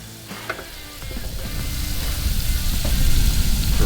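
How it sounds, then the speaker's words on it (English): Two tablespoons of butter hit a hot pan on an outdoor burner for a roux, starting with a few clinks and then building into a steady, growing sizzle. "So I'm gonna start with just 2 tablespoons of butter."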